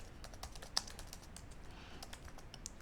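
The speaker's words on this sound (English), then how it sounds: "Then I'm going to type this script," Quiet, close keystrokes on a computer keyboard as a command script is typed into Notepad on Windows 11, a steady patter of soft clicks with one sharper tap, no voices.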